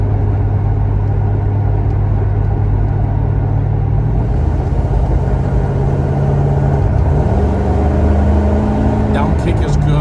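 A 1971 Chevrolet Monte Carlo's engine rumbles low and steady while the car is driven, with a deep continuous drone that shifts pitch partway through as the revs change.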